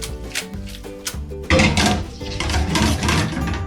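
Mushroom risotto with butter and grated parmesan stirred in a pan, giving close clinks and scrapes of utensil against the pan, sparse at first and then a denser, louder stretch of busy scraping and clatter.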